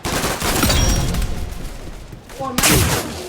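Rapid bursts of loud gunfire from a powerful gun in a video game crack in quick succession, a dense volley filling most of the stretch before a short lull and a final burst, with a voice now and then beneath.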